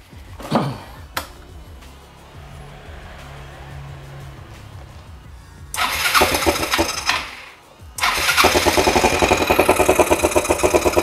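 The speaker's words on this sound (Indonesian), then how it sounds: "Dan kita nyalakan saja mesinnya." Yamaha Xeon motorcycle after a major service, heard close by as the engine is cranked and caught twice, then settles into a loud, steady, rapid idle that continues to the end.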